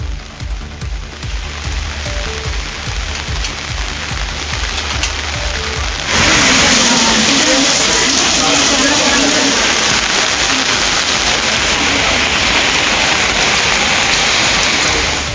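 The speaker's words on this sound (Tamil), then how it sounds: "திருநெல்வேலி மாவட்டத்திலும் பரவலாக பெய்த கனமழையால் தாழ்வான பகுதிகளில் மழைநீர் தேங்கியது" Heavy rain pours down in Tirunelveli district, Tamil Nadu, flooding low-lying areas: a loud, continuous broadband hiss that grows noticeably heavier and fuller about midway, with faint traffic-like rumble underneath.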